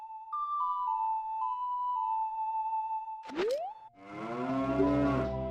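A cow lows in Zelda: The Missing Link, a loud, drawn-out harmonic moo that follows a steady electronic tone and a quick rising sweep, clear and alone.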